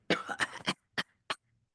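Someone coughs after smoking a cigarette, a quick burst of three hacks, then two more single coughs, close and fairly loud.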